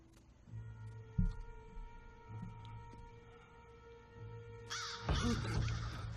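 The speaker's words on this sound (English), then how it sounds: "Fucking crows." Crows caw several times in a movie soundtrack, with harsh calls spaced out over a steady tonal hum, followed by a louder burst of noise near the end.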